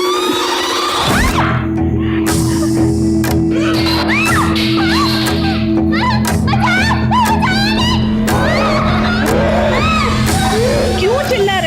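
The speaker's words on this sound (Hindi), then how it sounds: "क्यों चिल्ला रही है?" Someone shouts loudly in a heated domestic quarrel, her cries rising repeatedly over a dense mix of other raised voices and a steady background hum.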